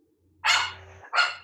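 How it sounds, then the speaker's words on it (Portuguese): A dog named Bela gives two sharp, close barks in quick succession, the first longer and the second clipped, with silence before them. "Cachorro que perturba minha mente"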